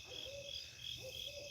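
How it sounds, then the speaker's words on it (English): An owl hoots outside at night at a camp, heard as two soft hoots against steady chirping insects in the background, faint and distant. "There's an owl outside."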